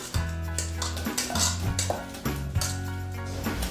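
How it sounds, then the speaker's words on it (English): Apple raspberry fruit filling is spooned into baking dishes, with repeated clinks and scrapes of a spoon against the dishes, close and moderately loud, over a low steady hum. "So now I'm going to put my fruit filling into the baking dishes."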